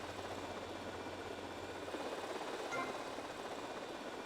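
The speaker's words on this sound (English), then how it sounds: "To pick up a bomb, simply maneuver the helicopter and carry the bomb out the..." A helicopter engine in the video game GTA Vice City drones steadily, a low continuous rotor-and-engine hum that stays fairly faint and unbroken throughout.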